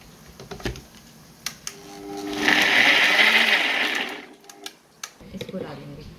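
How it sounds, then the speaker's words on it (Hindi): Chopped onions with a little water ground in a blender for a chicken curry, a loud whirring burst of about two seconds after a few clicks, with soft knocks and handling noises around it. "तो मैं इसको हल्का सा पानी डालकर मैं इसको ग्राइंड कर लूंगी।"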